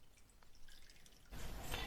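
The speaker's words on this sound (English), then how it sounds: "So let me pour some water." Water poured onto a sensor strip in an Arduino water-level demo: soft faint drips at first, then a louder, steady rush of pouring water for the final stretch, nearby with no talking.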